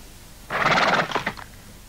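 A horse gives a single loud, close whinny about a second long, its pitch wavering and trailing off at the end.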